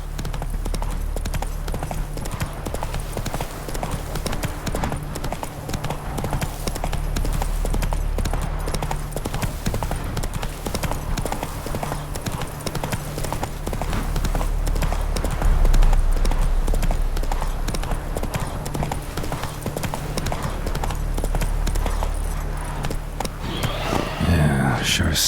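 A horse galloping in The Witcher 3 video game, with steady, rapid hoofbeats running continuously and fairly loud over a low rumble of game ambience, with a brief burst of other noise near the end.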